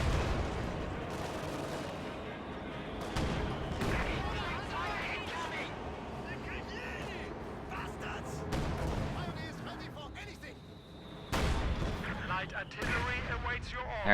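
Heavy mortar and artillery fire in a World War II strategy video game, repeated booming impacts and crackling gunfire rolling on under a commentator's steady narration.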